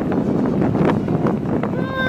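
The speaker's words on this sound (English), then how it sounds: "It's windy, isn't it?" Steady wind at Disneyland buffeting the microphone, a dense rumbling roar throughout with faint voices underneath.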